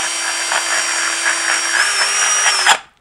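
Power drill boring a hole, a loud continuous whirring whine whose pitch rises slightly partway through before the motor stops abruptly.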